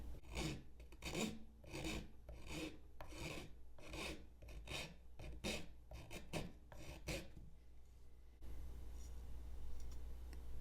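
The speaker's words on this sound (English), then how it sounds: "See about this file," A metal file rasps back and forth on the corner of a budget Flissa 15-in-1 multi-tool, a Leatherman Wave clone, in about a dozen close, rhythmic gritty strokes that stop before a quieter stretch.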